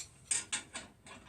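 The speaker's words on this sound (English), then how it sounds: "I'm going to tighten one of these up." Wrench tightening a bolt on a universal mounting kit, four short metallic ratcheting clicks at an uneven pace, close but fairly quiet, with no talking.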